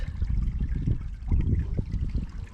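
Water from a creek flowing beneath the site of the demolished Lanett Mill trickles and burbles steadily at low volume, a continuous, rough, low rushing sound with no voices.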